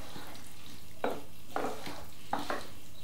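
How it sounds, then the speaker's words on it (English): Risotto stirred with butter in a pan makes three or four short, scraping, wet bursts in a steady rhythm, each roughly half a second long, close and moderately loud over a low background hum. "Keep stirring until you've no butter left."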